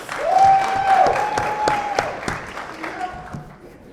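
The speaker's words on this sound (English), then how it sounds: "Can we clap it up for the Mr. CAU candidates?" Audience applause for the Mr. CAU candidates at a university royal court speech and debate event, steady clapping from a crowd over several seconds while a host keeps talking through it.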